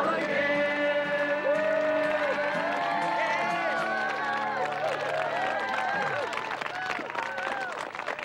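Campers at Camp Hawkins sing together loudly and clap their hands, the group's voices dominating while a dense patter of clapping grows under the singing toward the end.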